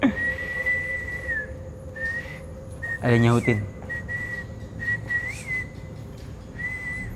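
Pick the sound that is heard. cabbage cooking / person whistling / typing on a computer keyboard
person whistling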